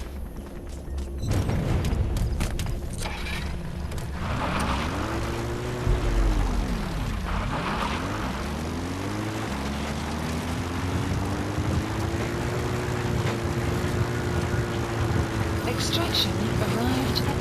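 Support helicopter in Metal Gear Solid 5 arriving at the landing zone, a loud rotor and engine drone with pitch sweeping up and down as it descends, then settling into a steady hover roar.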